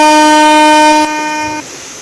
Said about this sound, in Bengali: একটু হর্ন দিয়ে নিই